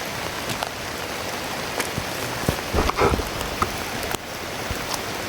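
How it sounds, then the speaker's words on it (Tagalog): Heavy rain pours steadily, a dense hiss with occasional louder drops and knocks close by. "Mag-off-cam na lang tayo kasi malakas yung ulan."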